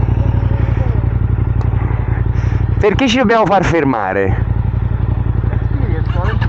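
A Yamaha MT-09 Tracer motorcycle engine idles steadily up close with a loud, even rumble throughout, while someone speaks briefly in Italian over it midway.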